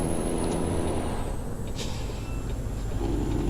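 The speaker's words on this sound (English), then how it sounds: "And here's the air brake that you were requesting." Truck air brake in American Truck Simulator, a loud hiss of released air under a steady engine rumble, with a brief burst around the middle of the stretch.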